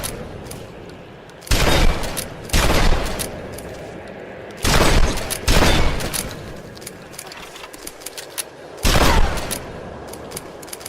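Rapid-fire gunshots in the Tomb Raider video game on PS4 with a modded controller arrive as three loud bursts of two or three quick volleys each, separated by quieter pauses, with no talking.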